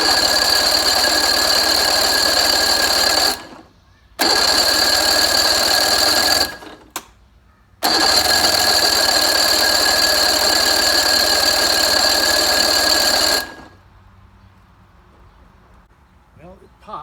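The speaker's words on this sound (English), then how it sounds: "Get this thing fired up and first crank." A 1986 85 hp Force outboard engine on a Bayliner Capri that won't start, cranking in long steady high-pitched starter bursts with brief pauses between, loud and close, ending in quieter rustling.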